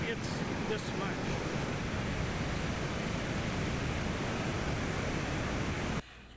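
Heavy ocean surf crashing during king tides at the Ocean Beach pier, a loud continuous roar of water and wind that cuts off abruptly near the end.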